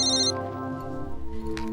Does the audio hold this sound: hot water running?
no